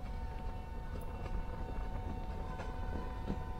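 WDP 4D diesel locomotive running in the Open Rails train simulator game, a continuous low engine rumble with steady droning hum and faint rail clatter, even and unbroken throughout.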